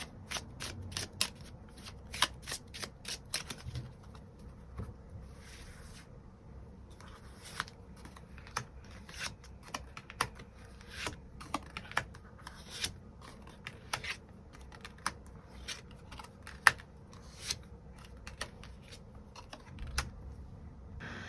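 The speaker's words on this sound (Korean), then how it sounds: "7번 분들 추가 카드로 일별로 월요일부터 일요일까지 어떤 하루를 보내게 될지 추가 카드 뽑아보도록 하겠습니다" Tarot cards being shuffled and drawn, a quiet close series of soft riffling flutters and sharp card snaps scattered irregularly across a long stretch, with no voices.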